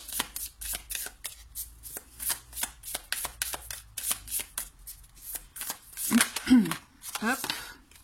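Tarot cards are shuffled by hand for a reading, giving a quick, even run of close papery flicks, with a voice speaking briefly near the end.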